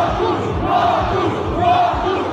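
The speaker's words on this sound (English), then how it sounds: "Just listen to how the crowd chants" A large crowd at a Dragon Ball Super episode premiere chants together in a loud, rhythmic roar, voices rising and falling in repeated swells with no other talk over it.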